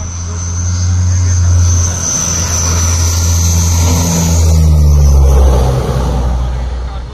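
An Indian Air Force aircraft roars loudly and close past the NH16 emergency landing airstrip at Korisapadu during a trial run, its engine note swelling and shifting as it passes, with voices in the background.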